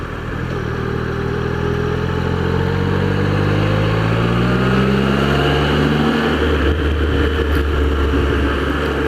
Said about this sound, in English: Lovely smooth engine. The triple is beautiful.